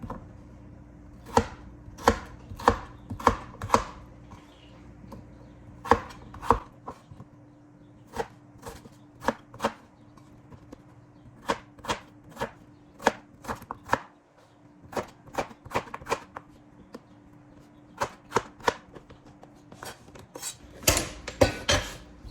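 A knife chops potatoes by hand on a cutting board for fries, giving sharp, close, evenly spaced knocks in quick runs with brief pauses between them, and no talking over them.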